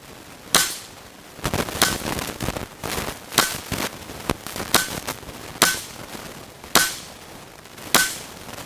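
Sharp, snapping shots from a nitro piston air rifle firing flathead pellets, roughly a dozen spaced pops at irregular intervals, loud and close with brief decays and no talking.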